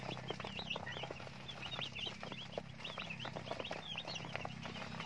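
Dense, steady chirping from a crowd of broiler chicks in a brooder, many high peeps overlapping continuously at close range over a low background hum, with no talk.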